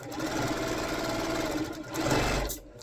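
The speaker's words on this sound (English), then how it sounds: "And start sewing these all down." A sewing machine stitching down cotton quilt pieces, a loud, close, continuous motor whir with a rapid stitching rhythm and a brief surge near the end, with no talk.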